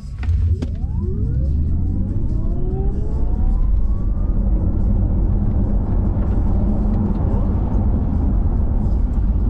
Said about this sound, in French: on a testé donc l'accélération de 0 à 100